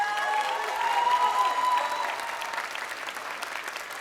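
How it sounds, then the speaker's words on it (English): A graduation crowd claps for the school's band and choir director, a broad wash of applause that swells early and then eases slightly while carrying on, moderately distant in a large hall. "A big round of applause to Ms. Schmekel, who has played double duty as band director and as choir director."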